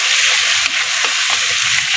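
Spices sizzle and fry in hot oil for a Bengali home-style dish of fresh bottle gourd and jiyel fish, a steady close, loud crackling hiss with a few brief stirring bursts, no voices.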